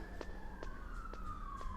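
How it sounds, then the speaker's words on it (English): Emergency vehicle sirens wail faintly outside, a gliding tone sweeping down in pitch under faint room noise and soft periodic ticks. "What's with all the sirens?"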